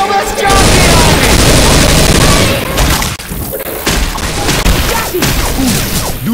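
Loud, dense bursts of gunfire and booming impacts in a Left 4 Dead 2 Dark Carnival round, continuous and chaotic through the clip with a brief dip near the middle, mixed with game noise.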